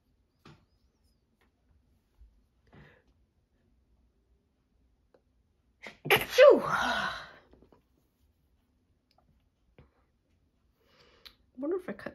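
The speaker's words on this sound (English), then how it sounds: "I gotta sneeze again." A single sharp sneeze bursts out in the middle of near silence, flanked by a few faint clicks and a soft breath or voice near the end.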